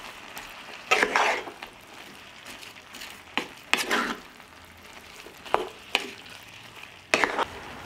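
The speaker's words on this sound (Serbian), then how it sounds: "Sve ću promešati i nastaviti da pržim dok povrće ne omekša." Vegetables with ground sweet paprika fry in a pan while being stirred, with several loud scraping stir strokes rising over a low continuous sizzle, close and without speech.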